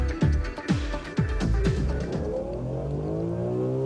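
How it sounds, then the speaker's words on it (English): A BMW M3 E46 accelerating hard on a test track, its engine note sweeping up through several quick gear changes before settling into a steady high-pitched drone, close and loud. "The M3 on full speed ahead"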